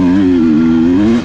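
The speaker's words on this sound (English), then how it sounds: "A little bit of wheel spin with the dust." A motorcycle spins its rear wheel in loose dust on an off-road trail loop, the engine droning loud and close with a steady note that wavers slightly in pitch.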